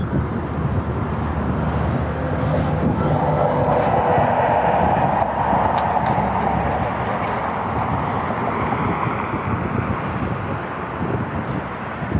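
A plane at Cleveland Hopkins airport roars steadily in a broad, sustained engine rumble with a faint whine, moderately distant and constant throughout, no voices.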